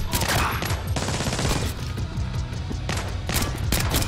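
Rapid gunfire fills the scene in Splinter Cell Blacklist, bursts of shots aimed at the player crackling loud and continuous with short gaps, while a voice speaks briefly over it.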